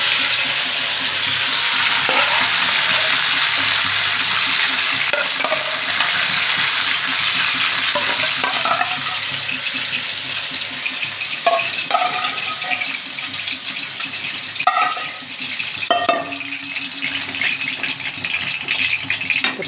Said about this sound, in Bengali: এবার আমি চিংড়ি মাছগুলো হালকা ভেজে নিচ্ছি